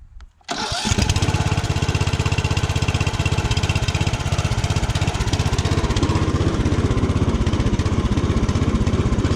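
A garden tractor mower's engine catches after a brief crank and then runs loud and steady at a fast, even throb, close by and continuing without pause.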